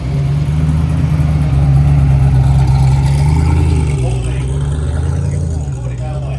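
A 6.6-litre twin-turbo V8 Fury engine rumbles loudly and steadily close by at a London motor show, a deep sustained drone with slight revving swells throughout, with voices faintly behind.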